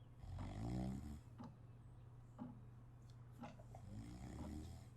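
Cartoonish snoring from a character in the Jenny LeClue video game, slow repeated snore cycles rising and falling over a steady low background hum, moderately loud and alone.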